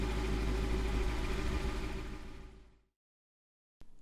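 A car engine with a Steeda resonator-delete H-pipe exhaust idles with a steady low rumble, then cuts out and falls silent, followed by a brief sharp noise at the end.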